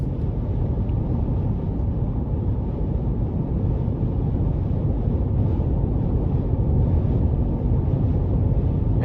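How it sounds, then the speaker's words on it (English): Steady wind noise inside the cabin of a 2021 Chevy Colorado LT Redline pickup with a 3.6 engine cruising on the interstate, a constant low rushing roar without gaps or talk. "And wind noise is a bit prevalent"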